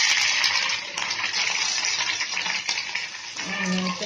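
Oil sizzles and crackles steadily in a pan while frying for an egg fry, a bright continuous hiss with a few stirring clatters and a lower bubbling tone creeping in toward the end.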